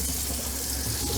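Water runs steadily into a camper's wastewater tank during a cargo trailer conversion, a continuous close rushing flow with no talk, pumped from the drinkable water supply.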